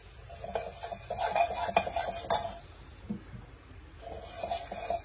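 A spoon scrapes and clinks against a pan while mixing poha chivda with turmeric powder, giving soft irregular rasps and taps that pause briefly, then resume.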